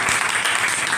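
An audience gives a teacher a burst of loud, dense applause at a coaching-centre felicitation for top-scoring students, continuous clapping filling the whole brief moment.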